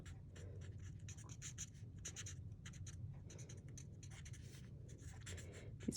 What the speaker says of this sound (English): Just going to put a bit of different shadowing also on to this part of the card.